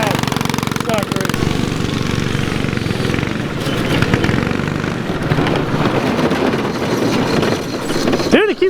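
Street go-kart with a worn clutch running on dirt, its small engine buzzing loudly and unevenly before sputtering and cutting out near the end, with people talking over it.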